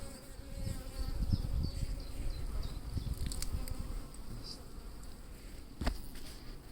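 Honeybees buzzing steadily around an open Layens hive during an inspection, a close continuous hum with a few brief louder passes.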